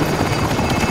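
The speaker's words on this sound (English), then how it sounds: "Helicopters exiting the AO." A helicopter departs in Call of Duty Warzone, its loud, steady rotor roar filling the whole short stretch without a break.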